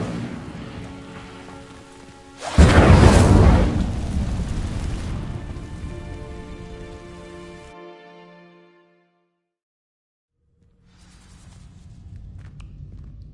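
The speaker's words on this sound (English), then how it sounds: "These dry vines are one spark away from becoming kindling. Incendio!" Incendio fire spell from Hogwarts Legacy igniting dry vines: a sudden loud whooshing burst of flame that crackles and fades over several seconds, then brief silence before a low ambient hum returns.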